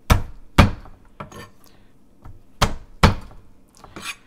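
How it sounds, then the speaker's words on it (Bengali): Garlic cloves are crushed and minced on a cutting board: a handful of sharp, separate knife thunks at an uneven pace, close and fairly loud, with quieter scraping between strikes and no voices. "আমরা গার্লিক এভাবে ক্রাশ করে পরে সেটাকে একেবারে কুচি কুচি করে ফেলবো"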